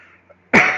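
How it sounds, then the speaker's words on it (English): A single sharp, loud cough bursts out close to the microphone after a moment of near silence. "I apologize for the coughing."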